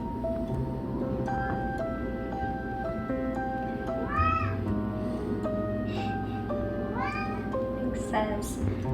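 Cat meowing and complaining indoors in a kitchen, with several drawn-out, rising and falling meows spaced a few seconds apart over a steady low hum with background music.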